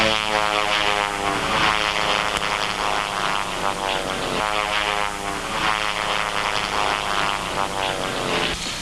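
Vintage propeller airplane with a 90 horsepower OX5 engine drones steadily overhead, a loud continuous buzzing hum with gentle swells in pitch as it flies past.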